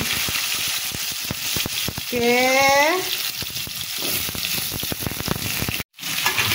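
Pumpkin pieces land in hot oil in a frying pan and set off a loud, close, continuous sizzle, with spatula scrapes and a brief squeak partway through.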